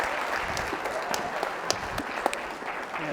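Sustained applause from a conference audience for mathemagician Arthur Benjamin, a dense steady clapping wash across the whole stretch with a few sharper individual claps standing out.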